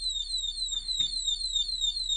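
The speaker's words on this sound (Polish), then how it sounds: "łączy się alarm" An anti-theft alarm on a security stand shrills nearby in a steady, repeating pattern of high descending electronic tones, with faint handling noise underneath.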